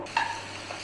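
A spoon stirs mashed boiled raw banana into fried ingredients in a frying pan, a brief scrape and clink against the pan over a faint background sizzle.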